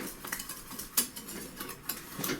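Utensil scraping and clinking in a pan as taco cheese dip with chili powder and taco sauce is stirred, a quiet run of irregular metallic scrapes and light taps.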